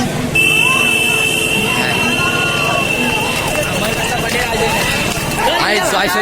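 Bullock carts race past in a semi-final at Kashid, with pounding hooves amid a loud, excited crowd and a shouting voice, while a steady high-pitched whistle or buzzer rings throughout.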